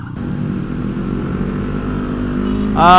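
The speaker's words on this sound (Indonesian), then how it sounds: "Ya beda lah motor standar sama motor udah di bore up" A bored-up Yamaha Aerox motorbike engine drones steadily, then revs up sharply and loudly near the end.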